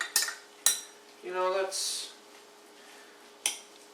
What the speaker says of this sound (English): So I'm just going to stir up the barbecue sauce here until I have a nice consistency.